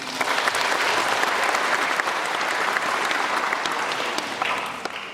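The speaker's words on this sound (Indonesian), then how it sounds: "Beri tepuk tangannya." A large audience claps steadily and densely at a Tabligh Akbar gathering in a Hamamatsu music hall, a loud, unbroken wash of applause that holds for several seconds before easing slightly at the end.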